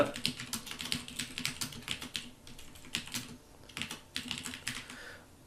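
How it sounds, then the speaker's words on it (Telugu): Typing on a computer keyboard while setting up a Windows task, rapid irregular key clicks in bursts with brief pauses, close and clear, with no voices. "సిస్టమ్ రీస్టోర్ ఎట్ స్టార్టప్ అనే దాన్ని నేను టైప్ చేస్తున్నాను"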